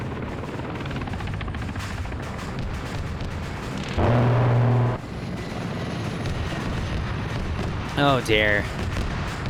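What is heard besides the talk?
Mi-24 helicopter gunship attacking in a video game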